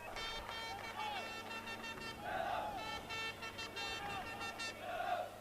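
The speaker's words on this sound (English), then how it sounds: "it's a small crowd, but a lively one here at Bob Jane Stadium" A small but lively crowd at a 2006 Victorian Premier League football match at Bob Jane Stadium, South Melbourne against Preston Lions, cheers and blows air horns in repeated toots, all heard under steady commentary.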